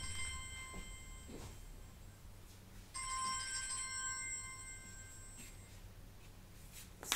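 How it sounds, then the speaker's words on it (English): A phone ringtone rings in a clear, steady electronic melody, growing louder partway through before stopping, with no talking over it. "let me just switch the ringer off so it doesn't disturb us again"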